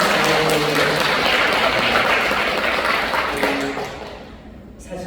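Dense, loud applause from a congregation welcoming first-time attendees at a Catholic charismatic prayer meeting in a parish church, filling the room for several seconds before tapering off, with a brief spoken word near the end.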